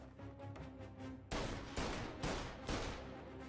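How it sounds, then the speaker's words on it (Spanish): A shotgun fired at range in Mafia Definitive Edition booms four times in a loose rhythm, each blast loud and sharp with a short decaying tail, after a quieter stretch of game ambience. "A ver cómo funciona la escopeta de lejos."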